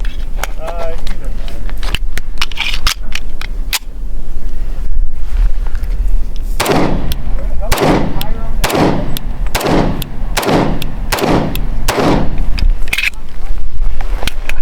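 Repeated sharp gunshots from a 1911 Government Model pistol fired at close range outdoors, about a dozen loud cracks in a steady rhythm through the second half, with wind noise and brief talk before the firing starts.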